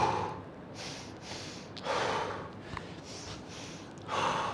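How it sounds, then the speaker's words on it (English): Deep breathing during a guided breathing exercise: a few slow, fairly quiet breaths with soft airy inhales and longer exhales spaced about two seconds apart, close to the microphone. "it's just 30 deep breaths. And then you exhale."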